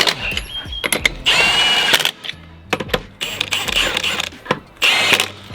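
An impact wrench rattles on the wheel nuts of a Troopy during a wheel change, firing in repeated loud hammering bursts of about a second each, separated by short pauses.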